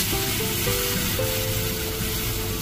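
Pumpkin and oat tortilla batter frying in a pan sprayed with vegetable oil: a loud, steady, close sizzle that carries on unbroken throughout.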